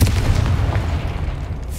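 The Confringo explosive spell from Hogwarts Legacy, a deep booming blast that hits loud at the start and rumbles off into a fading low tail, with no voices.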